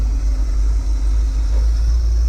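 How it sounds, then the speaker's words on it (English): Car RJ drives down the road under its own power, not yet fully warmed up, giving a loud, steady low rumble with no voices. "RJ is driving down the road under its own power"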